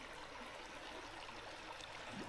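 River water flows in a soft, steady rush with no break, faint and distant-sounding, and no one speaks over it.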